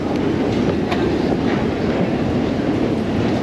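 A Budapest metro train running with a steady loud rumble and rhythmic wheel clatter, heard up close from inside or beside the carriage.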